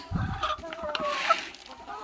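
Laying hens clucking in a coop, a few short clucks and calls close by against quiet farm background.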